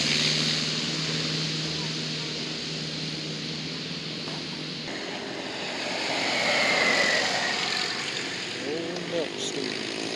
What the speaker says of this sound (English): Yeah, I know that airplane.